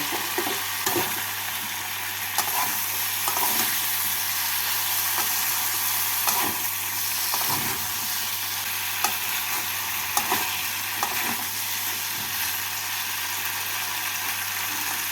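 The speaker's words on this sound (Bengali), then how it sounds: "ভেজে রাখা সবজি দিয়ে মশলার সাথে ভালো করে মিশিয়ে নেব" Vegetables frying with spices in a pan for a Bengali drumstick and prawn curry, with a steady close sizzle and repeated scraping stirs at an uneven rhythm. No voices are heard.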